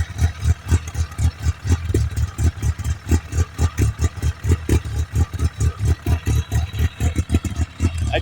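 An Arctic Cat Wildcat XX sport UTV engine idles close by with a loud, lumpy rumble, its rapid pulses beating steadily with no talk.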